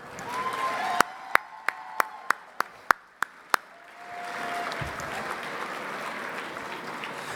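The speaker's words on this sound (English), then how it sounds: "please give a round of applause for Jacob for a great job." Audience applause at an evening dinner event, starting with a run of about nine sharp, distinct claps before swelling into a broad, sustained wash of clapping from a crowded room.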